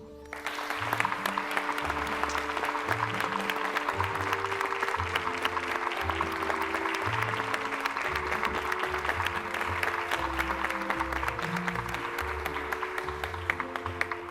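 Audience applause for a guest at a Spanish-language stage design talk, steady and sustained for about fourteen seconds, with music playing underneath throughout.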